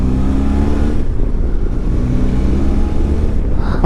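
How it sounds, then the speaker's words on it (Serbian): A 2020 Benelli TRK 502X motorcycle with 235 kg on board accelerates hard, its engine giving a loud, steady droning roar with strong low harmonics and a brief gear change near the end. "Baš fino ubrzava motor, kao da ne osjeća 235 kg"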